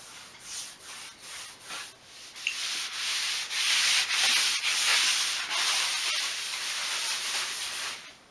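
Pallet wood workbench drawers are machine-sanded outdoors, a continuous rasping hiss that swells and eases in repeated strokes, loud and close with no talking.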